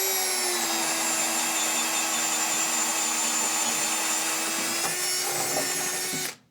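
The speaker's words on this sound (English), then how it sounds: "So we're gonna go ahead and drill through this stud." A power drill with a 7/8-inch bit boring through a wooden wall stud for outlet wiring, a steady loud grinding whine held for about six seconds before stopping abruptly, heard alone without talk.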